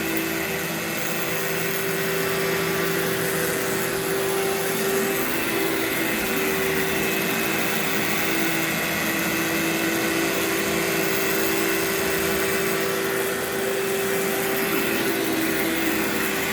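A vacuum cleaner runs steadily and loudly throughout, pre-vacuuming carpet before cleaning agents are applied, a continuous motor drone with a constant whine and no talk over it.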